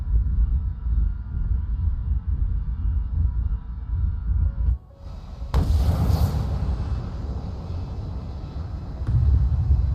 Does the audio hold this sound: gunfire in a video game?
yes